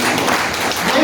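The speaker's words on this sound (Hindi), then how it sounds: "एक बार फिर जोरदार तालियां लेके सर के लिए" An audience claps in a steady, dense burst of applause at an rcm Super Seminar in Chandigarh, filling the whole brief moment at close range.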